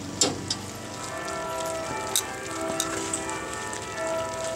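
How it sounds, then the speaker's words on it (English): Church bells ring out faintly in the distance, a few soft struck tones over a steady background hiss, with no one talking. "Now, you can hear the end of the bells, so you know what time it is."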